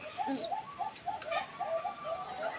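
Soft, repeated cooing from ring-necked doves close by, in a steady rolling rhythm with a faint high chirp and a constant electrical hum behind.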